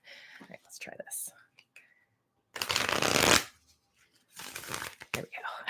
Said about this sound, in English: How do you like to shuffle?